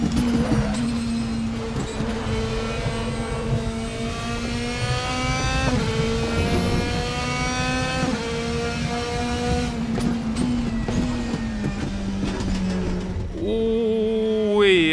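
Race car engine in RaceRoom at Silverstone, a loud close whine rising through the gears in repeated climbs with brief dips at shifts, ending in a final sharp rev.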